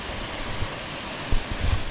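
A river cascade roars in a steady, broad wash of rushing water, with occasional low thumps and gusts of wind on the microphone and no one speaking.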